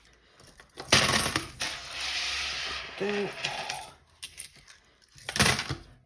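Coins drop into a savings jar in loud clattering bursts, a few separate spills with metallic jingle and rattle, close by, with a brief spoken word in between.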